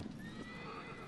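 A horse in the video game Shadow of the Colossus gallops with steady clip-clop hoofbeats and lets out a whinny, all packed into about a second of dense, fairly loud game audio with no talking.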